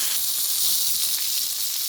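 Steady hissing sizzle of small chicken pieces frying in a little hot oil, continuous and fairly close, with no voices.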